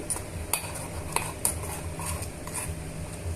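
Onion, tomato and ginger-garlic paste being stirred in a pan for a chicken curry gravy, with repeated spoon scrapes and light clinks against the metal over a low, steady background, no talking.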